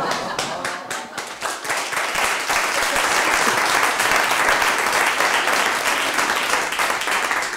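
A comedy-show audience breaks into applause, building from scattered claps into a loud, dense, sustained ovation that fills the room.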